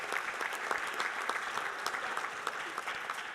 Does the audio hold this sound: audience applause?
yes